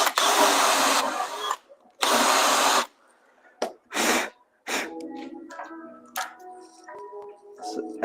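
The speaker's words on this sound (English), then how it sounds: "Right now I'm drilling the holes in here for these nut certs." A power drill bores holes in a side panel for rivet nuts, in bursts: two long whirring runs, then several shorter ones, near and loud, followed by quieter workshop clatter and knocks.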